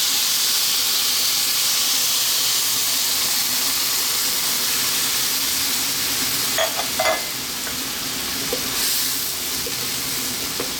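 A lamb mushroom curry cooks with a loud, steady sizzle and hiss, then a few clinks and scrapes as coconut milk is added and stirred.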